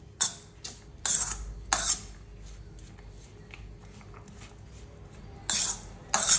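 A utensil scrapes and clinks against a bowl as grated paneer stuffing is mixed, in short bursts of metallic scraping separated by quieter pauses, close and fairly loud.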